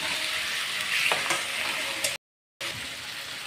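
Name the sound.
frying green chili paste in a pan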